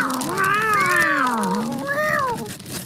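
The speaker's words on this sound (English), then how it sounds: "And who are they? They're my cats, Cosmo and Bella." Pet cats meowing close by, a long drawn-out meow that rises and falls followed by a second shorter meow, clear and prominent against a quiet background.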